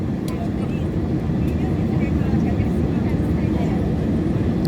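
Airliner engines drone in a steady broadband roar from inside the cabin during the climb after takeoff from Kathmandu, continuous and loud with no change in pitch.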